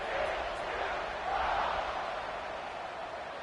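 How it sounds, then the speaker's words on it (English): A football stadium crowd at a college game between Wisconsin and TCU keeps up a steady, broad buzz of cheering and chatter, heard from a distance without any single voice standing out. "this crowd is buzzing after that last score"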